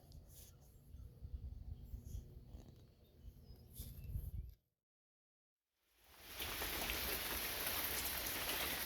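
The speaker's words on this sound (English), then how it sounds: "Well, yep, it's another rainy night." Rain falling steadily at night, a dense wash of drops on the ground and surfaces around a porch, loud and continuous, briefly cutting out before returning stronger.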